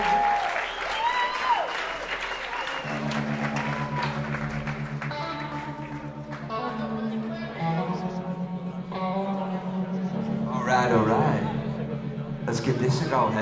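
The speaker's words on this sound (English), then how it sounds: "Let's give it a round of applause." Audience applause fills a live concert hall before a cover, loud and sustained, with crowd noise and a voice rising over it as sustained instrument tones begin to sound beneath.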